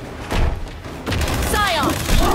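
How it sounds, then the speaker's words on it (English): A frag grenade blast in the video game Gears 5, a heavy booming thump with a rumbling tail, mixed with game effects and a voice calling out in combat. "Throwing frag!"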